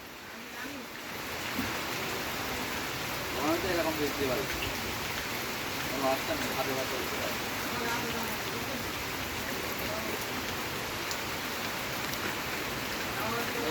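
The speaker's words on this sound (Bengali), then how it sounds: "বৃষ্টি একটুখান করে জোরে আসে আবার কমে যায়" Continuous village rainfall patters on the ground and nearby surfaces, a soft even wash of drops that rises and falls gently throughout.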